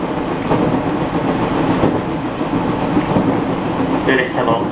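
An Ou Main Line local train bound for Hirosaki rumbles along the rails with steady clickety-clack and wheel noise from the front cab, loud and continuous, with brief higher squeals near the end.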